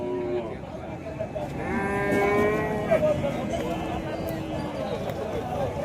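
Cattle moo repeatedly at the Kangayam cattle market, with long drawn-out calls rising over a busy crowd while people talk nearby throughout.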